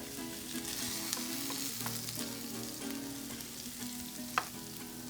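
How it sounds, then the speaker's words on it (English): Steady, crackling sizzle of onions and chiles frying in a hot pan, continuous and close, with a couple of sharp pops and stirring clinks. "You want to hear that sizzle right when it hits the pan."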